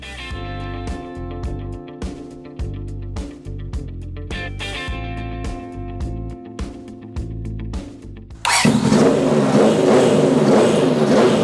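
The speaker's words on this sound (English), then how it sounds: "let's listen to this motorcycle with 3 different styles of mufflers to show you the difference on how they sound" Motorcycle with a quieter aftermarket muffler, one of three styles compared, gives a series of short, sharp revs with brief gaps, then breaks into a loud, continuous rough roar for the final few seconds.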